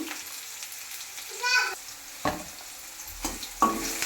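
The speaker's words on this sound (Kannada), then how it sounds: "ನೆಕ್ಸ್ಟ್ ಈರುಳ್ಳಿಯನ್ನು ಹಾಕ್ಬೇಕಾಗುತ್ತೆ ಅದರ ಈರುಳ್ಳಿ ರೋಸ್ಟ್ ಹಾಕ್ಬೇಕಾಗುತ್ತೆ" Onions roast in a pan with a close, lively frying sizzle and repeated scraping stirs at irregular intervals, while a brief voice sounds faintly in the background.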